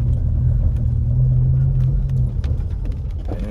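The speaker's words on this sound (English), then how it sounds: "Yep, see, here comes a big truck right here." A big truck rumbles past on a snowy mountain road near Big Bear after a snowstorm, a steady low, loud drone with a brief sustained tone that swells and then fades slightly toward the end.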